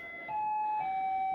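Attract-mode music from a Trik Trak arcade machine: a short, steady electronic tone that steps up in pitch partway through, clear and alone with a faint background hum.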